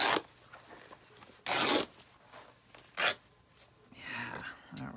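Fabric material torn by hand right after a scissor snip while making a journal cover from recycled items, heard as a few short, loud ripping bursts separated by quiet pauses, with a longer softer rustle near the end.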